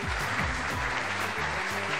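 Audience clapping at a stage show, a dense, even round of applause from a crowd heard up close for the whole stretch, with low murmurs beneath.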